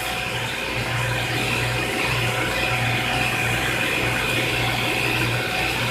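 An electric hand mixer with beaters whirs continuously through lime sour cream pound cake batter in a bowl. The noise is loud, close and steady throughout, with a low hum.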